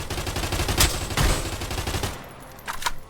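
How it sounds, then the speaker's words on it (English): Rapid bursts of automatic gunfire and sharp single shots crackle loudly in a VR battle royale video game, dense for two seconds and then tapering to a few distant reports. "Gunfire"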